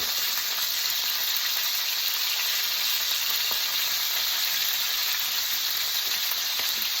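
Well-brined steaks frying in a pan, a loud continuous close sizzle with a bright hiss that holds evenly throughout with no pauses.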